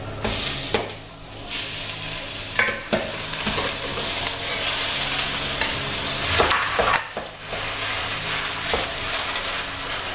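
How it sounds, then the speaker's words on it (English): Beef mince frying with onions in a pan sizzles loudly and continuously, with sharp scraping stirs and spatula knocks at intervals, close up and without speech. "So we're going to add the mince."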